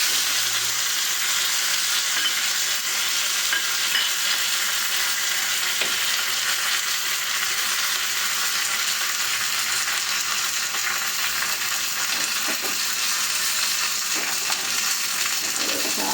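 Mustard seeds, chillies and curry leaves sizzle steadily in hot oil for a kayya moru curry, a dense continuous hiss with faint pops scattered throughout, close and fairly loud, with no voices.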